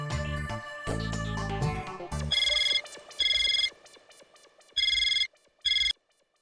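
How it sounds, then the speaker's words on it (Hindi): A telephone rings in loud, bright electronic bursts, four separate rings with short gaps of silence, after a brief low rumble at the start, in an indoor sitcom scene during a call. "मनोज भाई को फोन कर लीजिए ना।"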